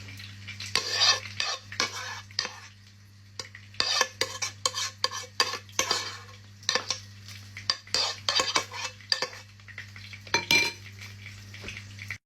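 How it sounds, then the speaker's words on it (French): Pad thai is scraped and served onto a plate with utensils, producing a busy run of close clinks, scrapes and clatters in irregular bursts over a low steady hum. "On vient mettre le pad thaï."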